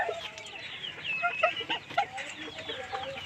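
Bantam chickens cluck and chatter in a farm pen at evening, several birds calling in overlapping bursts at close range over a soft, steady background hum.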